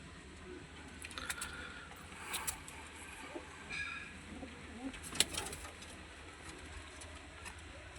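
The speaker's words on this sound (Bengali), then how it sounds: "এই হচ্ছে পায়রা।" Several Madras pigeons kept for sale coo in soft, repeated phrases near the microphone, with a brief sharper call and a low, constant background rumble underneath.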